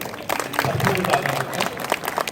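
Applause from an audience at an International Mother Language Day celebration honouring top students, a crowd clapping steadily with some crowd noise and faint voices mixed in.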